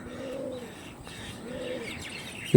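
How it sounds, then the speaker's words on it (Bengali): Chennai blood pigeons coo in two soft, throaty rolls, one after another, close by and otherwise quiet. "একটা চেন্নাই ব্লাডের জোড়া পিওর গ্রিনাইস পায়রা"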